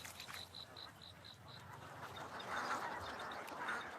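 Ducks in a rice paddy, a short run of evenly spaced quacks early on, followed by faint calls under a soft outdoor background hum.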